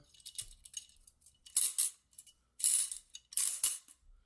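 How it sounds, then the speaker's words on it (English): Metal clicks and scraping as a rifle buffer and buffer spring are slid back together during reassembly, several close, bright bursts of rattling friction separated by quiet gaps. "I'm going to go ahead and reassemble the buffer and the buffer spring"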